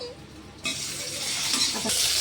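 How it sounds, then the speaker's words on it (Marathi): Chillies roast with steady sizzling in a hot pan, starting quietly then swelling louder after a moment and continuing as a dense crackle with no talking. "आता मिरच्या झाल्या बघा, भाजल्या एकदम छान भाजल्या"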